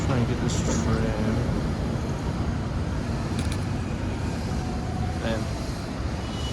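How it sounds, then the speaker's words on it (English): A tram passes along a city street, a steady broad rumble of wheels and motor on rails sustained throughout and fairly close, with a brief squeal near the end and muffled voices in the background. "Try and get this tram."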